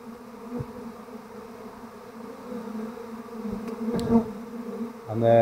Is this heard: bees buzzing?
yes